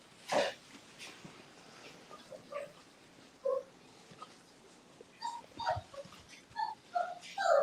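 South African Boerboel puppies, 44 days old, whimpering and yelping in short high cries, several scattered across the clip and clustering more densely toward the end, close by in a quiet room.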